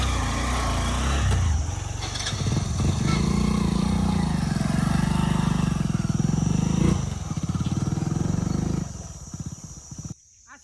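A motorcycle engine drones loud and close at a steady rumble for several seconds, then fades quickly as the bike rides off.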